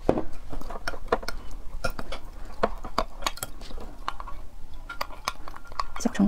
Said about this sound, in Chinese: 给它搅拌。